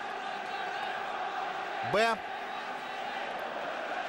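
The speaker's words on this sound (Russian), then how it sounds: "вот болельщики, пожалуйста, вам из Украины" Ukrainian football fans fill a stadium at a Champions League group match, their steady roar held under a commentator's voice, with a short rising whoop or whistle cutting through near the middle.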